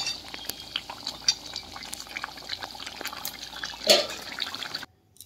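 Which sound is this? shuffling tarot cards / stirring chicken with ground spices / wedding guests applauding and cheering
stirring chicken with ground spices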